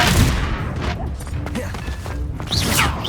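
A Confringo blast spell fires in the Hogwarts Legacy video game, a loud crackling burst with sharp impacts and booms, dense and close, over a short stretch of combat.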